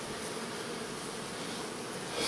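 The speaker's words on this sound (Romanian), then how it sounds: "Ia uitați aici, câtă zarvă este aici. Toată albina acolo se îngrămădește" Honeybees crowding inside a hive during a failed queen replacement, a dense, continuous close buzzing hum with no talking.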